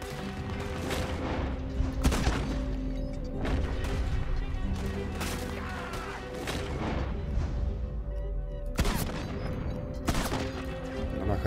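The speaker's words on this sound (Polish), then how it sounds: "Pojedyncze strzały." Gunfire in the Western video game Red Dead Redemption 2: several loud, sharp shots spaced a second or two apart, ringing out over a continuous busy game soundscape with a steady low hum.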